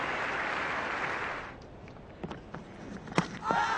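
Crowd at an Australia versus West Indies cricket test match applauds a batsman's innings, a broad steady wash of clapping for about a second and a half that then fades into quieter ground noise with scattered knocks.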